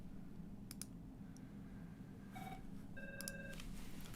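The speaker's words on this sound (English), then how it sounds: "I'm ignoring the phone." A telephone in an indoor room sounds with short electronic tonal bursts and clicks, faint and slightly distant over a low background hum, with no speech.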